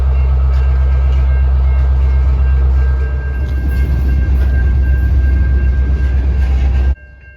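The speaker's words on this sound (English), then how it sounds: "the train slowly began to move forward." Freight train slowly starting to move forward, a heavy low diesel rumble giving way to grinding, rattling wheel and car noise, loud and close before cutting off abruptly.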